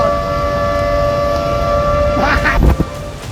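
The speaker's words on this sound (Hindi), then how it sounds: "वीडियो में सायरन बजने की आवाजें सुनाई देने लगती हैं।" A wailing siren rises with steady tones, then ends in a brief burst of louder rumbling noise.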